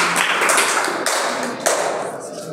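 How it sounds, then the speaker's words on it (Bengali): Applause for a quiz team at a school quiz competition: a short, brisk burst of clapping from a nearby audience, steady and fairly loud throughout. "গ্রুপ বি এর জন্য আবারও জোরে হাততালি"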